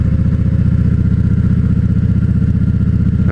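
Close, loud steady engine drone of a Voyager touring motorcycle with large fairings on a night ride, an even throbbing hum with no talk.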